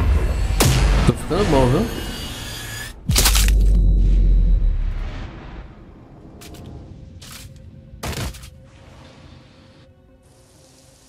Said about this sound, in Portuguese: Quantos tiros? 3. Recarregar. Ok, 3 disparos.